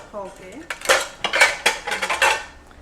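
Prestige pressure cookers of various sizes, from 1.5 to 3.5 litres, clank and clatter as metal bodies and lids are handled on a shop display in a quick series of sharp knocks, after a brief voice at the start.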